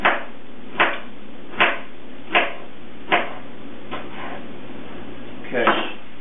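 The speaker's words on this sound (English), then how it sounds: "roll them up into a tight sort of cylinder like this, and then cut them into half-inch pieces" A knife chops through rolled collard green leaves on a cutting board: seven evenly spaced, crisp knocks about every 0.8 seconds, close and clear, with a brief scraping sound at the end.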